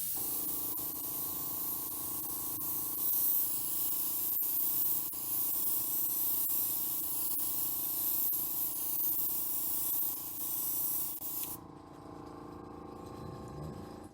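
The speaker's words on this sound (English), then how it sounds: "I'm going to use the acrylic through an airbrush and just lay down a nice light layer." An airbrush sprays acrylic paint in a steady, close hiss that runs almost without pause, then cuts off abruptly near the end, leaving a quieter background.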